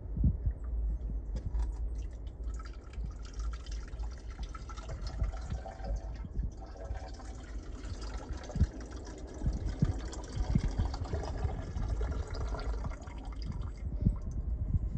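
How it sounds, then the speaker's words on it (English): Water poured into a Gunner Kennels dog bowl, a continuous trickling and splashing fill with small drips and knocks, close and moderately quiet, running steadily for about fifteen seconds without talk. "Now, test it out with the water. So I'm going to pour it in here."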